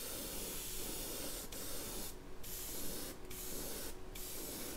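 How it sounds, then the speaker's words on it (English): An airbrush sprays green paint onto a bluegill-style fishing lure in a steady, close hiss, with several brief, brighter bursts as the trigger is pressed harder. No one speaks. "we're going to hit it straight on and use that overspray to blend it in for us"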